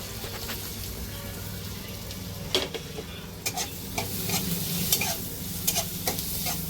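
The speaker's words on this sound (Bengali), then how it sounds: "আদা রসুনটা ভেজে নিচ্ছি।" Chopped onion, ginger and garlic fry in an oiled pan with a steady low sizzle, while a spoon scrapes and stirs in irregular knocks throughout.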